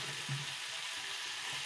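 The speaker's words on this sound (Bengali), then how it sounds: "খুব ভালোভাবে চিকেনের আলুটা কষে নেব।" Potatoes fry with chicken in spiced oil for a thin chicken curry, giving a soft, continuous sizzle that stays quiet and even throughout.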